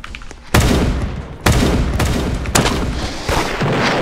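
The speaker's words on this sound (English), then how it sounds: "Once they hear gunshots" Gunshots in the Roblox game Da Hood, several loud sharp cracks spread over a few seconds, each followed by a brief noisy tail. They are close and sound alone, with no talk.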